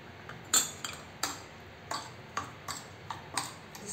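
Chicken pieces being mixed in a marinade of pink salt and lemon juice in a bowl, a string of sharp clinks and taps from a spoon against the dish, spaced irregularly, close and fairly quiet.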